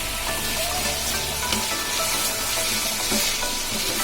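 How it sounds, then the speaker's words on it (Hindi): Mutton and potatoes frying on a high flame, a loud, dense, continuous sizzle and crackle filling the whole stretch with no pauses, close by. "इसके बाद फ्लेम हाई करके 2-4 मिनट हाई फ्लेम में फ्राई कर लेना है।"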